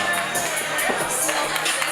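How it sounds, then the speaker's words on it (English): Rowdy crowd at a live Glory Pro Wrestling show at an anime convention, under a pavilion, with a steady roar of cheering and shouting voices, some children among them, sustained and dense throughout. "in front of this rowdy crowd again at Anime Con under the pavilion"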